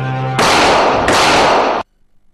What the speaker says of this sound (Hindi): लुटेरों और जराइम पेश अनासर की जानिब से दागी जाने वाली गोलियां सामने से हट जाने का पैगाम देने लगीं।